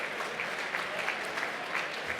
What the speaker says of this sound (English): We get a little round of applause for our Shark Tank's contestants tonight